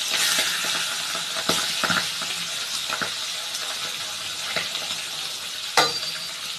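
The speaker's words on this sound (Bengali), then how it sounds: "এবারে মাছের মাথাগুলো ভেজে নেব।" Fish heads fry in oil in a pan, a continuous close hiss of sizzling broken by several sharp stirring scrapes and a brief metallic clink near the end.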